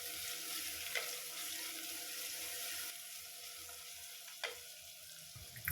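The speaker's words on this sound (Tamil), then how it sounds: "எல்லாத்தையும் ஒன்று சேர்த்து பொன்னிறமாக வெங்காயம் வதங்குற வரைக்கும் வதக்கி விட்டுக்கலாம்." Small onions and curry leaves sautéing in a pan for a fish gravy, giving a steady close sizzle with a couple of brief clinks of stirring and no voices.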